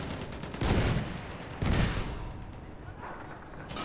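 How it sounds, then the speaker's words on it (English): An enemy machine gun fires in Battlefield 1 on the River Somme map, with bursts of heavy gunfire swelling and fading amid battle noise while in-game voices are heard faintly underneath. "Machine gun, one of theirs."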